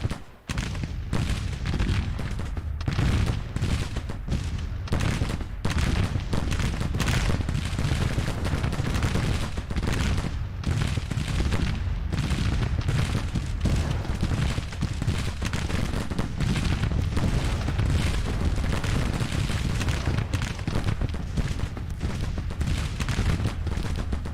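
Dense, continuous gunfire with rolling artillery booms in a Civil War battle from the strategy game Grand Tactician: The Civil War, loud and sustained throughout with overlapping musket volleys and no pauses.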